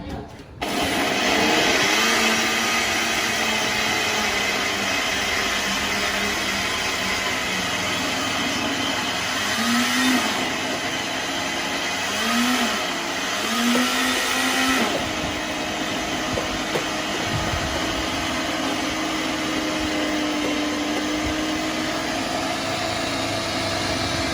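A steady, loud motor whirs continuously throughout, like a blender running, with slight pitch shifts in the middle and faint talk underneath.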